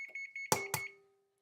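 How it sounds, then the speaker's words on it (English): An oven timer chimes when the oven reaches 350: a few soft, quick beeps followed by two louder electronic tones that fade out, alone and close. "That would be my oven timer, letting me know that the oven is at 350."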